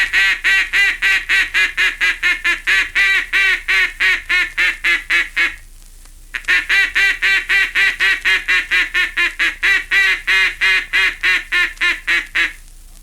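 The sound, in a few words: duck call mimicking mallard quacks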